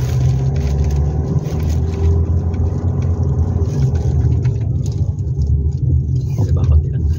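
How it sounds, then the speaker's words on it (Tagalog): A 2024 Nissan Navara PRO-4X pickup with a 7-speed automatic accelerates gently on a test drive, its engine giving a steady, close low rumble inside the cabin, with faint voices underneath. "Bigyan ko lang ng a little bit acceleration."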